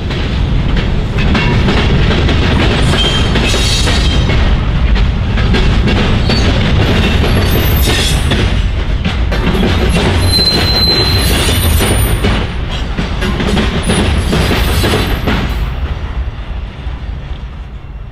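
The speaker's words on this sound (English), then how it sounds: "the train pounded the diamond over the former" Freight train on WATCO's Michigan short line pounding across a railroad diamond over the former Michigan Central Main Line, loud and close, with steady heavy rumble, wheel clatter and squeal sustained throughout before easing slightly at the end.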